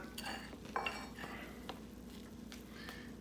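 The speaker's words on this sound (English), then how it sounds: "even it out with your spoon just like that" A spoon pressing and smoothing sticky rice crispy treat mixture in a dish, giving soft scrapes and a few light clinks against the container at close range, fairly quiet over a faint steady background hum.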